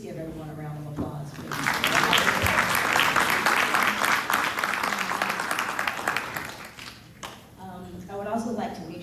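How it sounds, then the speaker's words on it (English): An audience applauds warmly at a 10th anniversary ROTC Hall of Fame celebration at Tuskegee. The steady clapping swells for several seconds, then fades as a speaker's voice returns at the start and end. "Please give everyone a round of applause."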